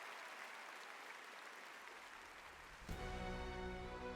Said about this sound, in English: please give a big applause to the beautiful orchestra